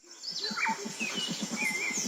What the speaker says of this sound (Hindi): सुबह सुबह चिड़ियों के चहकने की आवाज आ रही थी।